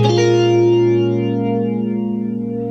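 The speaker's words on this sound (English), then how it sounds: "For this one, I'm using the Boss BF2 flanger" A sustained electric guitar chord, pickup set between neck and middle, through a Boss BF-2 flanger pedal: sweeping, swirling, rich and shimmering, ringing out loudly and slowly fading over a few seconds.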